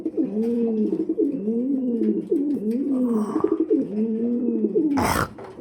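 Pigeons coo at a farm in a rhythmic, repeated series of soft throaty calls close by, with a brief rustle or flutter near the end and no talking.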